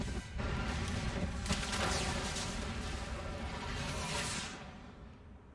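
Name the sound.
big explosion in video game Mass Effect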